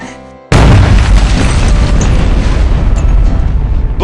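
A bomb blast in an animated superhero cartoon: after a brief quiet lead-in, a sudden loud boom erupts and then rumbles on as a dense, sustained roar that fills the rest of the stretch.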